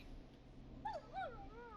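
A neighbor's dog in the video game Killer Frequency gives two short whimpering yips, faint and distant, over a quiet background.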